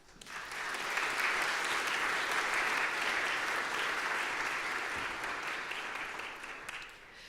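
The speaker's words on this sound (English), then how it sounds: "That's something to clap about." Audience applause fills a school assembly hall after a talk, a steady, dense wash of clapping from many hands that swells quickly, holds evenly for several seconds, then tapers near the end.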